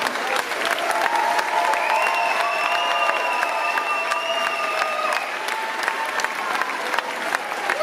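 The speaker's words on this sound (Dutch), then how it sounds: "Een applaus." A concert crowd at a show applauds steadily throughout, dense clapping filling the hall while a sustained musical tone or voices ring over it and fade partway through.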